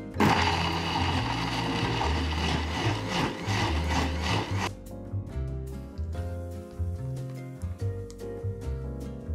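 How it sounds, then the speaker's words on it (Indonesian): Electric blender grinds soaked, washed dried anchovies with a little water for northern-style laksa, a loud coarse whirring churn that runs steadily, then drops to a lighter, uneven grinding after about five seconds. "Tambah air sikit dan kisar halus."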